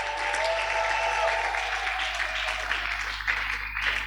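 A church congregation applauding and acclaiming the Lord during a worship service, sustained loud clapping and cheering that fills the room evenly throughout.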